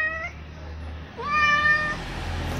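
A cat being bathed gives two clear meows, a short one then a longer rising and falling cry, close to the microphone over a low background hum.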